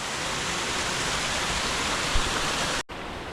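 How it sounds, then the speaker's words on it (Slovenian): A waterfall in the Mkčeva gorge in the Trebušica valley, Slovenia, pours down as a dense, steady roar of rushing water that cuts off abruptly near the end. "Slap v Mkčevi grapi."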